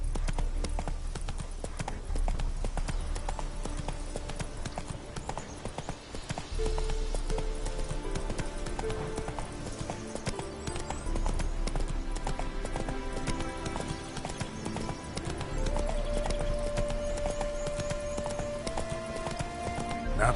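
Horse hooves galloping at a steady rhythm in The Witcher 3: Wild Hunt, loud and continuous over a game music score, with no talking.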